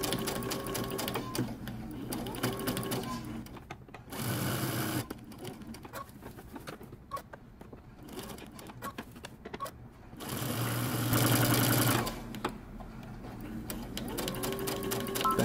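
A sewing machine back-stitches a men's fitted shirt sleeve, running in several bursts of steady mechanical whirring separated by pauses, with one longer, louder run near the end.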